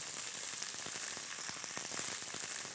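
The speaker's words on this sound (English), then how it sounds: "And you should hear that really nice sizzle." French beans sizzling and crackling in a hot pan while they char before any oil goes in, a dense steady hiss scattered with sharp pops, close and fairly quiet, with no voices.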